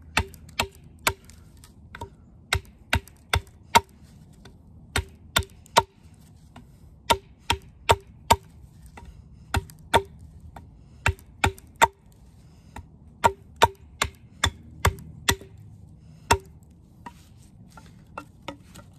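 Sharp, evenly spaced chops from a heavy Exodus WorkHorse knife swung by its weight into wood near the ground, about two dozen crisp strikes with small pauses in a steady rhythm, close and clear with no talking.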